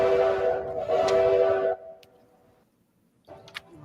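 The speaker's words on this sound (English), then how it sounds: "It's a 3-chime steam whistle." A three-chime steam train whistle sounds loud and sustained for nearly two seconds, trails off, then returns after a pause with a shorter blast.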